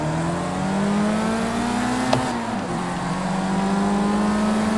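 A race car in Project Cars 2 accelerates hard, its engine tone rising steadily, dipping briefly at a gear change with a short click, then climbing again, loud and continuous without voices.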